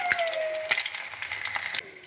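Egg cutlets frying in hot oil, a close, busy sizzle with crackling bursts and brief scraping stirs, heard alone without talk.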